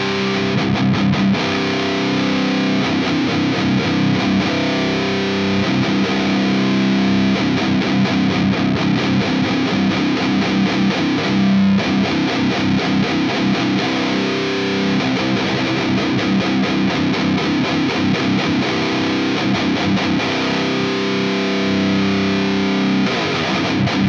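Distorted electric guitar played through an Orange Rockerverb amplifier, boosted with a GUP Tech Mad Chiou pedal for tight metal tones; loud, continuous chugging riffs with dense gain and no talking.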